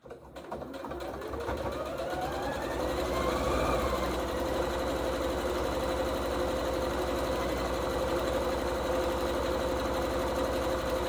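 Sewing machine running steadily as it top stitches an elastic headband for health workers, a continuous close mechanical whir and rattle lasting throughout without pause.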